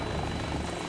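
A helicopter in Bulletstorm gives a continuous, loud, dense rotor whir that fills the whole short clip without a break.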